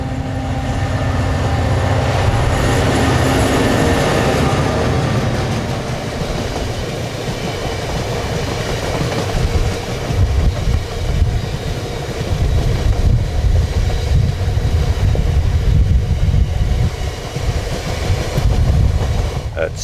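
Locomotive 69002 hauls a freight train past in the rain, a loud, continuous low rumble with rail clatter and wind buffeting that swells midway and stays strong to the end.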